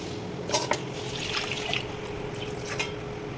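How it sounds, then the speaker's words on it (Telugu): A glass of water is poured into a pot of kattu charu with masala paste and dal, a soft continuous trickle with a few faint splashes over steady background hiss. "ఒక గ్లాస్ వాటర్ పోసుకోవాలి దీంట్లో."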